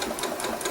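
A sewing machine runs steadily at close range, stitching quilt binding with a blanket stitch in a fast continuous whir with a faint repeating needle rhythm.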